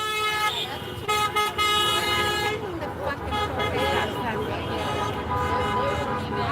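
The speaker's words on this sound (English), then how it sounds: "People are honking, driving by." Car horns toot repeatedly as vehicles drive past an anti-Trump street protest in Los Angeles, with steady traffic noise and voices talking throughout.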